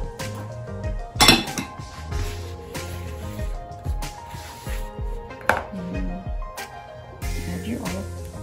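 Flour, milk and salt get stirred together in a bowl for Indian taco dough, a close run of scraping, clinking utensil and bowl sounds with one louder knock; soft talk runs underneath.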